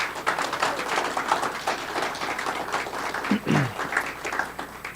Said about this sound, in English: one more round of applause for everybody